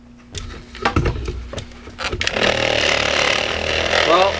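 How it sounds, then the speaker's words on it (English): A polishing buffer runs on motorcycle paint during a Ninja restoration, a steady, rough motorized whir that swells in partway through and holds loud and continuous, after some voices and knocks. "We just got to hang out for a few minutes and let the buffer do its magic."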